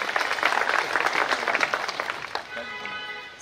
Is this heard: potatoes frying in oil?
no